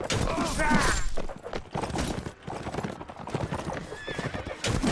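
Horses in Mount & Blade Warband battle gallop with rapid hoofbeats and loud neighs close by, amid the clash of combat and without speech.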